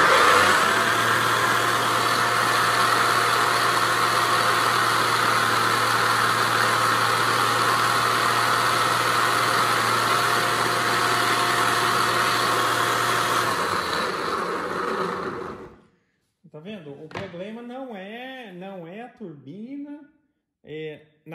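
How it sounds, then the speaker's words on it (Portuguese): A homemade mini dust collector turbine running with dirt passing through it, a loud steady whirring roar for about fifteen seconds that cuts off, followed by someone talking. "Nesse caso agora aqui a sujeira vai passar por dentro da turbina"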